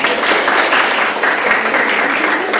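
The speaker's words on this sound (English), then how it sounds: "give them a round of applause" Audience applause after a children's summer camp theatre performance, a steady dense wash of clapping that holds at an even level for the whole stretch.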